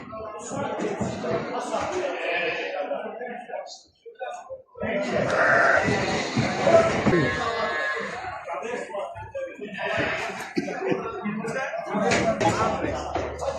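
Gala sheep bleat at a busy sheep, goat and cattle market in Mashtaga, with several calls rising over steady crowd chatter and people talking nearby.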